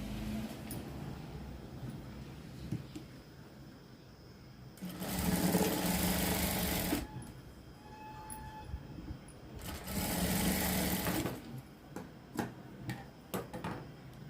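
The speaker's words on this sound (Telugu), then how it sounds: "ఇప్పుడు రెండవ టక్స్ని కుట్టుకోవాలి" A sewing machine stitches tucks on a large-size blouse in two loud, steady bursts of whirring, each a few seconds long, with a quieter background hum and faint ticking between them.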